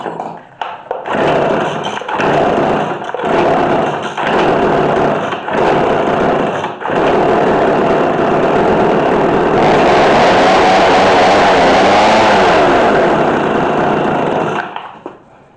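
A McCulloch Mac3216 32cc two-stroke chainsaw with a 16-inch bar runs at idle close up, a steady buzzing drone with brief dips early on before it settles into a continuous rising whine, alone without talk.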